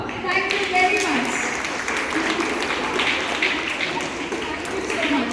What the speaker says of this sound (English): Can we clap for her?